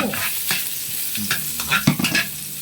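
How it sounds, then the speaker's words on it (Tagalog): Garlic and onion sauté together in a hot pan, sizzling steadily while a utensil stirs and scrapes in short, irregular strokes close by. "igigisa natin yung bawang at ang sibuyas ng sabay para hindi sila nag-aaway"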